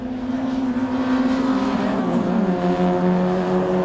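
Renault Clio racing cars in a Stock Hatch race at Donington drop down the hill, their engines droning loud and steady with a pitch shift as they pass close by.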